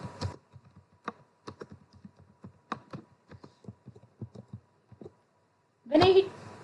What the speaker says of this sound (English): Here I am typing number 30 and press enter.